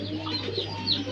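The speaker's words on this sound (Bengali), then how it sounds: "এখানে একজোড়া লোটন কবুতর আছে, খুব সুন্দর একজোড়া লোটন" Pigeons, including a pair of Lotan pigeons, coo at a pigeon market in a few soft, close rolling calls over a low steady background hum.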